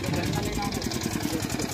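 A tractor engine runs steadily to power an urad bean thresher on a farm, a loud, even mid-pitched rumble with regular pulsing throughout, close by and continuous.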